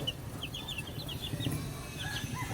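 Hungry hens cluck in short, scattered bursts over a steady farmyard background, fairly faint and at a middle distance, with no talking.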